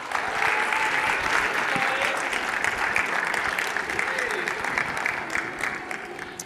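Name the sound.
audience applause at a conference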